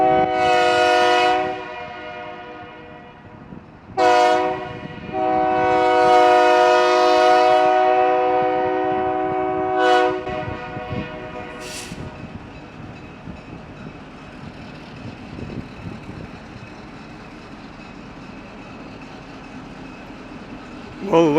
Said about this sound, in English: Well, it looks like our train is here.